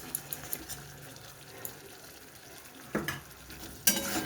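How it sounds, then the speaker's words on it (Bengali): Fried pointed gourd stirred into a cashew-poppy paste with ghee in a pan, giving a soft steady sizzle with light scraping and a couple of louder clinks near the end. "এবারে কিছুক্ষণ এইভাবে নেড়ে চেড়ে নেব।"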